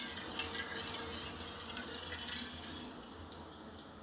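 Dissolved jaggery syrup is poured in a home kitchen, giving a steady, soft liquid trickle and splash that runs unbroken and fairly faint throughout.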